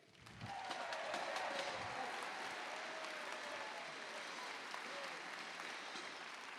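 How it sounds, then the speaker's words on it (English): Crowd applause at a Notre Dame welcome rally for incoming students, a broad, even roar of many hands clapping that starts abruptly and holds steady, somewhat distant, with faint cheering mixed in. "please give a big round of applause for the class of"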